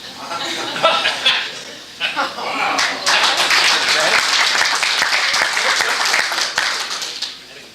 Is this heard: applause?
yes